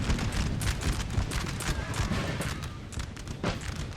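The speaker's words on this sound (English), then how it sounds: "probably just all that line of infantry firing" Infantry line musket fire in the Napoleonic battle game Total War 3, a continuous dense crackle of many distant shots forming a rolling fusillade.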